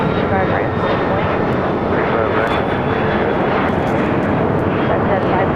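A loud, continuous roar of aircraft engines from an airliner departing runway 25 right at Los Angeles International Airport, steady and close throughout, with radio chatter running underneath.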